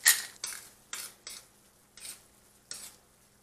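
Calamari cooks in a pan seasoned with salt and pepper while a utensil stirs it, making about six evenly spaced scraping strokes over a faint background sizzle.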